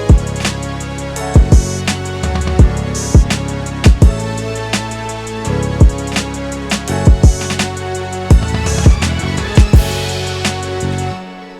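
A looped beat plays with sustained synthesized string chords from the Nexus synthesizer over punchy kick drums and percussion hits, loud and continuous, ending abruptly.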